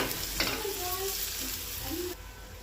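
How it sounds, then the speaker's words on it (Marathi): Onion with green chillies and ginger-garlic paste being stirred in a pan, a steady close sizzle with soft scraping strokes throughout. "आणि आता कांदा चांगलं मिक्स करून घ्यायचं."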